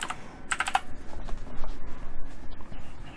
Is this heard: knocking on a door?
no